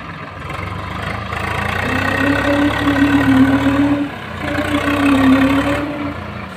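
The engine of a fully loaded Swaraj 744 XT tractor pulling a stuck trolley labors at full power in a deep, loud, sustained drone that rises in pitch, dips briefly, then climbs again.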